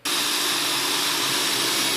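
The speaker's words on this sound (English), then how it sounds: "So when you decided where your hole is going to be, go ahead and drill." A power drill bores a hole into a car's trunk, making a loud, steady high-pitched whir that starts abruptly and runs continuously at close range.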